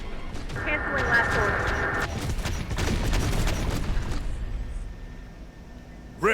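Gunfire and combat noise in the Terminator: Dark Fate - Defiance video game, dense clattering bursts over a steady tone, fading toward the end, with voices from the game mixed in.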